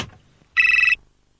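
A mobile phone rings in a studio during a French trucking debate show, giving one short burst of bright electronic ringtone tones that pulses rapidly for about half a second, loud and alone against a quiet room.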